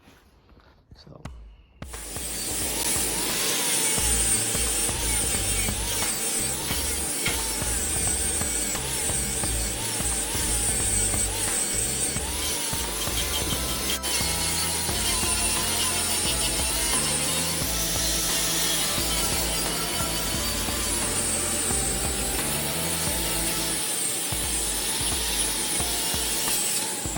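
An angle grinder works down a weld on car bodywork in an engine bay under repair, a loud continuous grinding roar lasting throughout after a brief quiet start, with pitch shifting as pressure changes.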